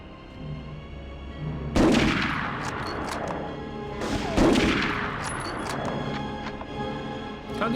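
Sniper rifle fire in the video game Medal of Honor: two loud, sharp shots about two and a half seconds apart, each trailing off in a long reverberant echo over steady background noise.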